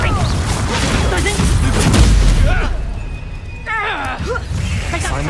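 Confringo fire-blast spell in Hogwarts Legacy goes off as a loud booming burst, with a deep low rumble swelling around the middle and more crackling impacts after, all mixed with busy game sounds.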